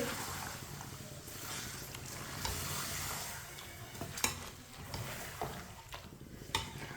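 Chicken pieces are stirred and mixed in a cooking pot, giving soft scraping and sloshing strokes over a low sizzle, with a few sharper clinks. The whole sound is quiet and close.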